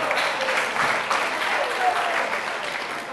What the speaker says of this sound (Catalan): Aplaudiment pel Daniel